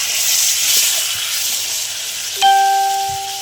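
Tomato paste, red chilli and turmeric fry in a pan for a potol curry with bata fish, giving a steady close hiss and sizzle. A clear ringing ding cuts in partway and holds to the end.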